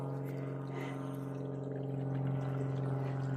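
Water from a small creek trickles and pours steadily alongside a hiking trail, a continuous close flowing wash with a low rumbling undertone and no talking.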